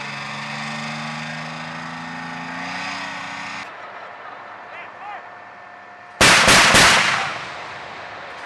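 Live-fire exercise by U.S. Marines with UK and Australian forces in Australia: a loud burst of gunfire erupts late, a few sharp blasts close together after a stretch of engine hum and quieter background, with no talk.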